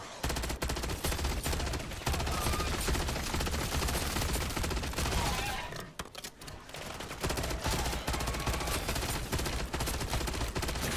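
Sustained automatic gunfire in MW3 Zombies crackles in rapid bursts, nearly continuous, with a brief lull midway before the shooting resumes at full intensity.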